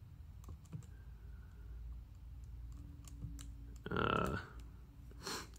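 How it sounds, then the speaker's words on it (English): Keys pressed on a calculator while working out a geometry problem, a scatter of light clicks close by with a denser burst near the end, over a faint room hum. "So I'm going to type into my calculator here."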